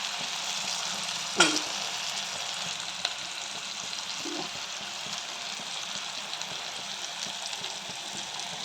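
Broadband frying sizzle from a prawn and pumpkin curry as ground coconut paste is poured in, a steady hiss throughout with a brief sharp clatter near the start and no talking.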